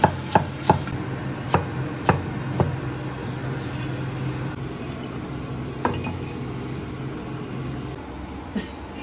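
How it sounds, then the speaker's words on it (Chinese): Knife chopping jicama on a cutting board in a home kitchen, a run of sharp, separate thuds at an uneven pace, with a few more spaced strikes near the end over a low background hum. "切这个凉薯"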